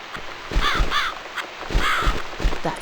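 A crow caws several times in The Cat Lady video game, harsh loud calls repeated in an uneven rhythm, close and alone.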